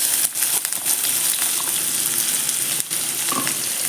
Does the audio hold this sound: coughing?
no